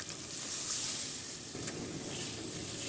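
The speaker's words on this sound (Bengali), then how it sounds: "এবার দুধের সাথে জল মিশিয়ে দিয়ে দেবো" Milk thinned with water going into a sizzling fish curry of fried fish in a pan, a loud steady hiss and sizzle with a soft surge midway, no talking.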